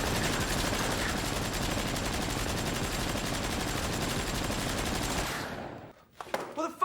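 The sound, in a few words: gunfire in the film Lock, Stock and Two Smoking Barrels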